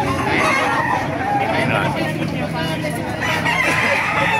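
Roosters crowing and hens clucking in a dense, continuous flock noise at a gathering of gamefowl after rain, with a faint murmur of voices in the background.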